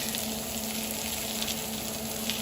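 Bean sprouts, spring onions and cabbage stir-frying in a hot pan, a continuous even sizzle with soft crackle and no voices.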